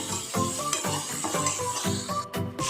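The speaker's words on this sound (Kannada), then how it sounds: "ಉಪ್ಪು ಹಾಕಿ ಸ್ವಲ್ಪ ಹೊತ್ತು ಫ್ರೈ ಮಾಡ್ಕೋಬೇಕು ಇದನ್ನು" Onions with garlic paste, turmeric and salt frying in oil in a pan, a steady close sizzle broken by repeated stirring scrapes and clinks, with no talking.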